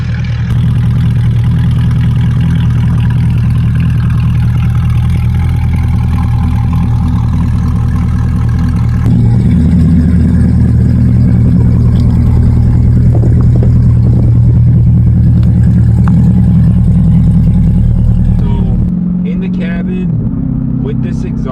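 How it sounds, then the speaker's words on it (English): C8 Corvette engine with a Corsa Extreme exhaust, muffler-deleted X-pipe and high-flow cats, heard close and very loud as a deep continuous idle and rev that rises midway, then drops off near the end. "Loudness is just from the Corsa Extreme, muffler deleted X-pipe, and high flow cats."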